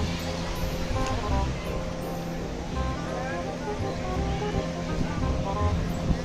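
Sea waves at Nagoa beach in Diu, a steady broad roar of surf with wind noise, heard over background voices and general beach commotion.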